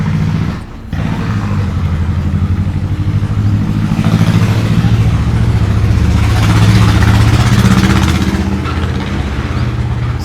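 Tractor engine running nearby at a neglected pond, a loud continuous low mechanical drone with clattering texture that briefly dips near the start, then holds steady throughout with no talk.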